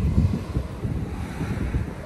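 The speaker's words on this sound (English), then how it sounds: "And it's also kind of windy." Wind buffets the microphone outdoors on a cold early spring day, a steady low rumbling roar with no voices.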